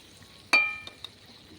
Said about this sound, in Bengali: এবার দিয়ে দিয়েছি ঝোল পরিমাণ মতো, নাড়াচাড়া দিয়ে দিচ্ছি